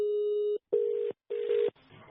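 Phone line tone on a call: a steady electronic tone broken into short pulses with brief silent gaps, clear and close.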